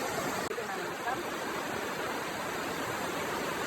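Steady, broadband rush of a river flowing in Palawan, continuous and fairly close, with no distinct voices over it.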